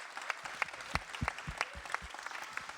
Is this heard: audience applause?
yes